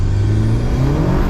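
A 270bhp Mk1 VW Golf GTI fitted with a 1.8T engine revs on the road, a loud, close, throaty drone whose pitch climbs and settles briefly, heard alone.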